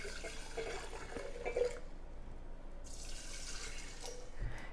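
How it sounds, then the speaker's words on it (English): Filtered water pours steadily into a jar in a kitchen, a soft continuous trickle and splash at close range that briefly pauses and then resumes. "And I'm going to add some filtered water."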